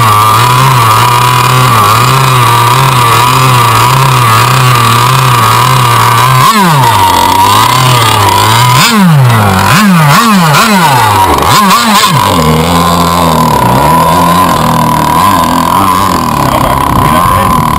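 A radio-controlled boat's small nitro engine idles with a steady buzz on the Murray River at Barmah, then revs up and down in several sharp blips before settling into a higher, rougher run.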